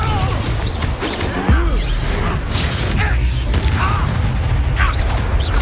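A Confringo fire blast spell cast in the Hogwarts Legacy video game, heard as a loud, dense burst of booming, crashing impacts amid continuous game combat noise and music, with a voice shouting a spell.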